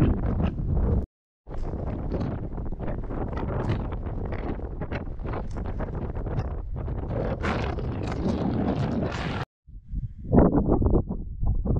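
Strong wind on the Mt Lindsey northwest ridge blasts the microphone with loud, continuous roaring gusts, broken by two brief drop-outs before easing off near the end.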